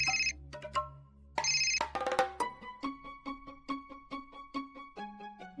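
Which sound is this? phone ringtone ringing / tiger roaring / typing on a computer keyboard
phone ringtone ringing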